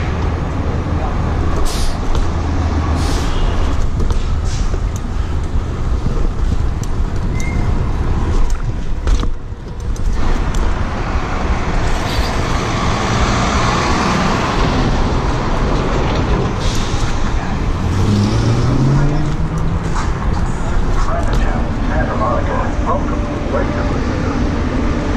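Downtown Los Angeles street traffic with a bus close by, a steady loud rumble of engines and road noise running throughout, with rising whine passages and a brief dip near the middle.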